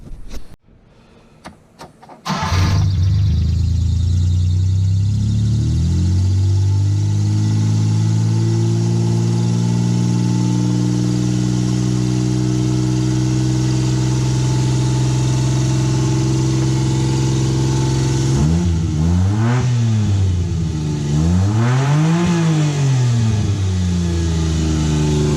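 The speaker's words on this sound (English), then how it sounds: "plug everything back in, and start the truck" A kei truck engine cranks with a few sharp bursts, catches and settles into a steady idle, then revs up and down twice near the end, loud and close with no talking.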